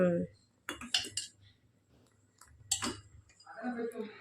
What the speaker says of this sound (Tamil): இன்னும் என்ன கிண்டிட்டு இருக்கேன்னு பார்த்தீங்கன்னா பாயாசம்